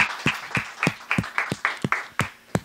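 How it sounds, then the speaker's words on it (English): A small group claps sparsely at a community foundation event honoring a digital team, roughly ten separate sharp claps spread unevenly, fairly quiet and close, with no voices. "So round of applause for the whole Oakland Digital team here."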